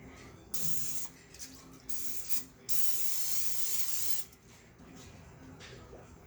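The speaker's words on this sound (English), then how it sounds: "spray it with the non-stick olive oil spray" Several bursts of non-stick olive oil cooking spray hiss close up, a short spritz followed by longer continuous sprays, with quiet pauses between them.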